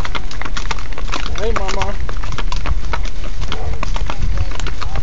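Horse hooves clip-clopping at a steady rhythm during a horse ride, close and loud alongside wind noise, while people talk briefly over them.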